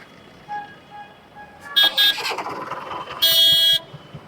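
Street traffic on a Pune lane in the daytime, with a steady low engine hum, short tonal beeps, several bursts of car horn honking and a sustained honk near the end.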